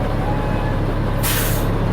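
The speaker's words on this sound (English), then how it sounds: "So we're going to fan down our brakes once more." A truck's air brakes are fanned down, giving off a sudden sharp hiss of released air that lasts about half a second, loud and close in the cab, over a steady engine rumble.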